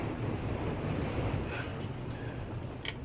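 Steady wind and rolling sea waves out on open water near a small boat, a continuous broad rush that stays even throughout with no clear voices.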